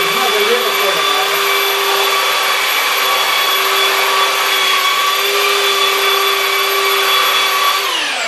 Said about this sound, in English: these little 6 by 14 sanders, you have to be a little careful